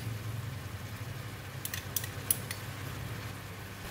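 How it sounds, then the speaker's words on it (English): Spatula scrapes a pan of stir-fried mustard greens and fishballs seasoned with salt and oyster sauce, giving a few brief metallic clinks and scrapes midway over a low steady hum, faint overall. "Give it a stir."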